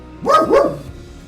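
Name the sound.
dog barking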